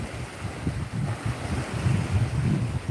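High water in Florida sloshes and washes against a submerged seawall. A continuous rolling surge is mixed with gusty wind noise on the microphone, fairly loud and without talking.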